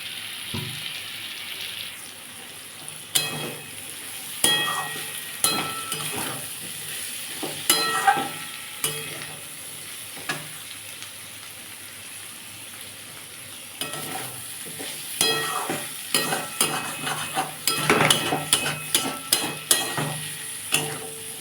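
Bitter gourd and potato fry with onion in a pan, a steady sizzle broken by bursts of spatula clatter and scraping that grow busier toward the end, with a brief splash of water and no talking.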